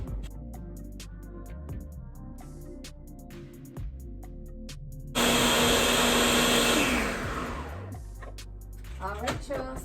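A Ninja blender roars loudly for about three seconds while blending a homemade oil-based hair mask, then winds down, with people talking before and after the burst.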